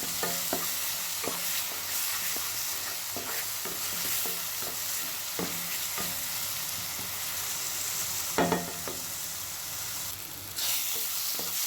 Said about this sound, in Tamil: மஞ்சள் போட்டு நல்லா மிக்ஸ் பண்ணிக்கோங்க.